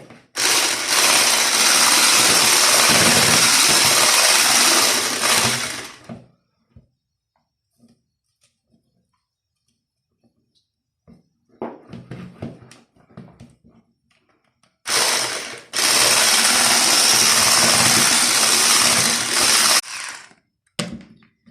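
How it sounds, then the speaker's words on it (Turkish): Lokma dessert batter of flour is beaten hard in a bowl, two loud sustained bursts of rapid whisking separated by a quiet pause with a few light knocks and handling sounds. "Ben hamurumu güzelce çırptım."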